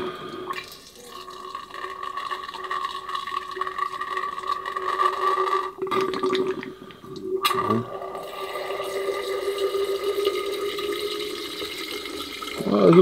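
Distilled water pouring into a PC water cooling loop inside a Thermaltake The Tower 500 Snow Edition case, a steady trickling fill that runs for several seconds with brief pauses, close and fairly loud.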